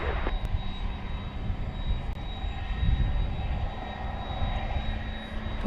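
Airliner engines at DFW Airport at night make a steady, loud, rumbling roar with a faint high whine, continuous and without speech.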